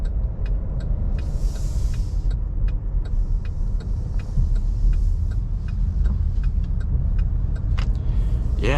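A 2023 Cadillac XT4 crossover driving and turning corners on city streets, with a steady low road and engine rumble, tire noise and scattered light clicks and knocks from inside the cabin, with no talking.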